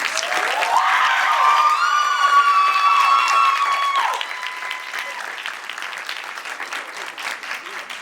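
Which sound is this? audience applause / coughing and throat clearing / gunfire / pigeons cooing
audience applause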